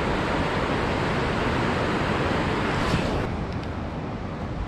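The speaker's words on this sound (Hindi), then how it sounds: "नदी, पार्वती रिवर। एंड काफ़ी ज़्यादा तेज़ बहाव है" The fast-flowing Parvati river rushes in a loud, constant broadband roar of turbulent water. The roar stays even throughout and softens slightly near the end.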